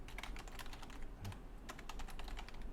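Fingers type on a stiff computer keyboard, a close run of quick clattering keystrokes in irregular bursts with a short pause midway.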